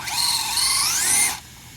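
Team Associated DR10 drag racing RC car spinning its tires in a short burnout, a loud high-pitched electric motor whine rising in pitch for just over a second before cutting off abruptly.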